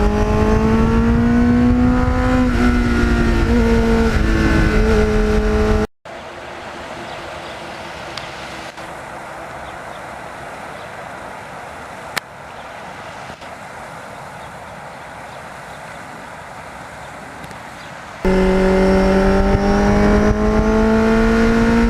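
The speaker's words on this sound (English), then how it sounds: "This bike really is at the top of that league of having a beautiful, smooth throttle response" A 1983 Suzuki XN85 Turbo motorcycle engine revs under way, loud and close, with strong harmonic tones that rise and shift as the throttle opens; the middle stretch drops to a quieter, rumbling hum before the louder engine note returns.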